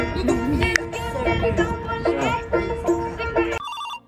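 A phone ringtone plays loud and continuous for about three and a half seconds during a Bangla comedy drama, signalling an incoming call, then cuts off abruptly.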